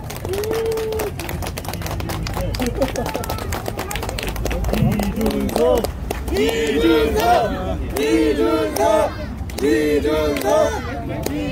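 Outdoor political rally crowd for the party leader in Gwangju outside Chonnam National University, steady clapping and cheering with shouting voices rising over the second half.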